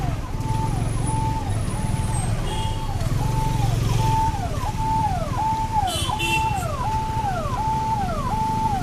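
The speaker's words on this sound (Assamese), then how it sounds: "এতিয়া ট্ৰাফিক লাগিছে, তো এম্বুলেঞ্চখন আহিব পৰা নাই বৰ্তমান" Road traffic in a jam at Tiniali where a bridge is under construction, a steady engine rumble beneath a repeating wailing ambulance siren sweeping up and down, with faint horn-like tones.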